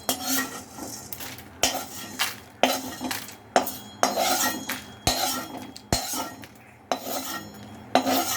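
A heavy metal pan of dry-roasted idli podi spices scrapes and clanks against a stovetop, with repeated sharp knocks and grinding pushes at irregular intervals, close and fairly loud.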